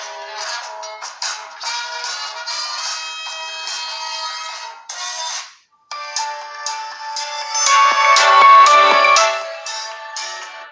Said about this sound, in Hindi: यहाँ से रिंगटोन्स को चलाकर देख लेते हैं कुछ और देखते हैं कैसी क्वालिटी है यहाँ पर स्पीकर की